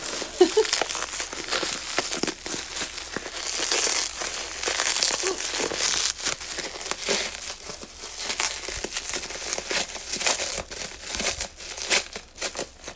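Crinkly wrapping being torn and crumpled off an 11-ounce sublimation mug from a fall 2023 sublimation trend box, a steady busy rustle of paper or plastic close up with no talk.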